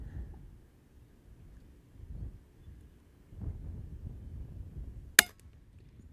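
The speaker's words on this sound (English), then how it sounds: "It's kind of windy out here today." Low, blustery wind rumbles against the microphone in uneven gusts outdoors at a rimfire shooting range, with a sharp metallic clink near the end.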